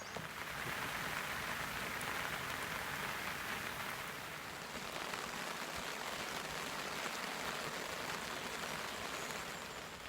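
Steady rain falls at a Black Country canal, a soft, even hiss of drops on surfaces that continues without a break throughout.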